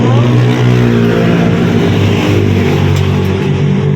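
Steady traffic on a wet, rainy road in Ilocos Sur, Philippines, with several cars passing close by in a loud, continuous rush of engine and tyre noise and no clear gaps.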